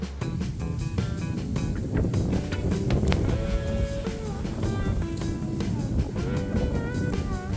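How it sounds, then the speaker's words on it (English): Loud, steady wind roars across the microphone throughout at an outdoor shooting range, a dense blustery rumble with constant buffeting and no letup. "let me give you an idea of how windy it was at my improvised shooting range"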